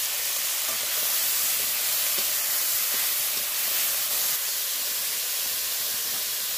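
Beans and carrots fry in oil in a wok with a pinch of turmeric and salt, giving a loud, dense, unbroken hiss of sizzling that holds steady throughout with no voices.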